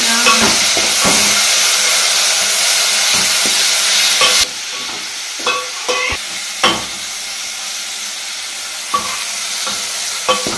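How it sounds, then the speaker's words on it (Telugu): Prawns fry in reused oil, giving a loud, close, hissing sizzle for the first four seconds. It then drops to a quieter bubbling, with occasional spoon scrapes and knocks against the pan. "ఇంకా అదే నూనెలో మళ్ళీ రొయ్యలు కూడా ఫ్రై చేసుకున్నావు"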